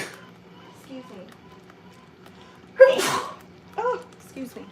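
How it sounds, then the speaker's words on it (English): A single sharp, explosive sneeze bursts out close to the microphone, with someone talking quietly before and after it. "Oh, excuse me. Bless you."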